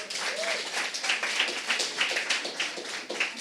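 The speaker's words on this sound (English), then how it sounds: "can I get a big round of applause for Autumn, please?" Live studio audience clapping and applauding steadily for a finalist being called up, a dense sustained burst of many hands at moderate distance without pause.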